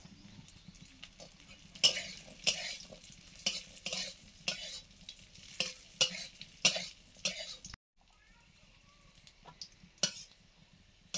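Raisins fry in ghee in a pan as a spoon stirs them with quick scraping strokes, a soft sizzle underneath; after a short gap the stirring returns more faintly.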